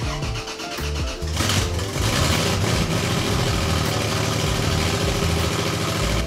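A Toyota 2JZ car engine with a suspected fault runs steadily at a constant, loud, droning idle, heard close up after a brief starting burst.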